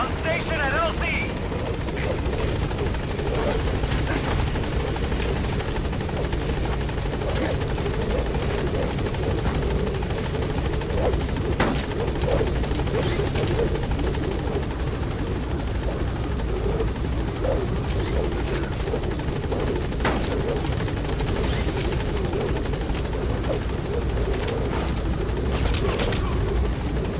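A helicopter arrives at a landing zone in Metal Gear Solid V, its rotor drone loud and continuous throughout, with a radio voice speaking over it at times.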